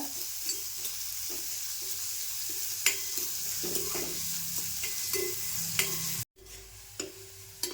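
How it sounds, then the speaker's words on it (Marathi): Chopped onion sautés in oil in a kadhai, frying to a slight change of colour, with a constant sizzle and repeated scraping stirs of a spatula, a brief drop-out near the end, no talk. "व्यवस्थित असं परतून घेते थोडासा कलर बदलेपर्यंत"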